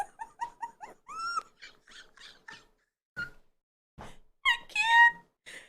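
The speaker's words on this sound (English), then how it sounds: "Why does that beaver sound like a freaking man?" Beaver creatures in a zombie horse-comedy film give off strange, human-like squawks, squeals and whimpering cries in short bursts with gaps between them, loud and close with no talking.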